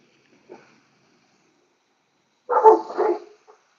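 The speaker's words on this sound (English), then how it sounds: "So you hear it over there barking because I'm out in my yard." A pit bull barks from a neighbour's yard nearby, one faint short yip followed by a louder cluster of two or three quick barks, then a tiny trailing sound, with silence between.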